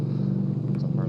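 A bagger motorcycle on the road rumbles by with a steady low engine drone, loud and continuous through a brief moment.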